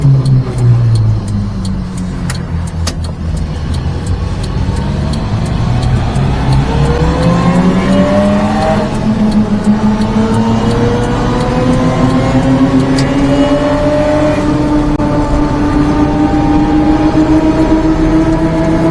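A turbocharged mini truck engine pulls hard at full throttle on about 6 pounds of boost, its loud, close roar climbing steadily in pitch as it accelerates without letting up.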